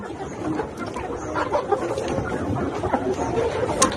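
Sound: layer hens clucking

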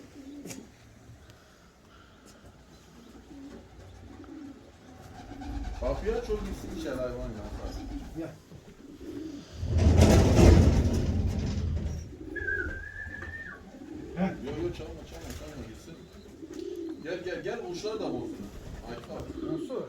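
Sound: pigeons cooing

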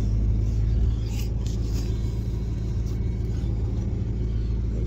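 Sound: 1988 Chevrolet Monte Carlo SS car driving

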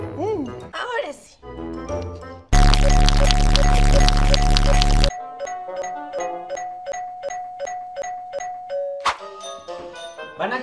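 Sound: doorbell ringing repeatedly

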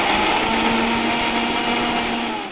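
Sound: mixer grinder blending betel leaves

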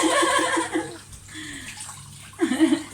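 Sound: water splashing while washing a child in a bath

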